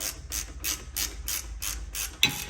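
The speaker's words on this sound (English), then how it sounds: "I'm just using one hand on the ratchet right now." A hand ratchet tightening the rear brake caliper bolts on a BMW 3 Series gives a run of about seven evenly spaced, close, crisp metallic clicks in steady rhythm, ending with a slightly sharper clack.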